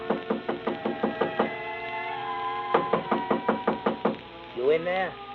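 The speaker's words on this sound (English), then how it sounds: "I had just put down the phone when someone knocked on the door." A hotel room door is knocked on in two rapid runs of about nine sharp raps each, close and clear, followed by a voice speaking.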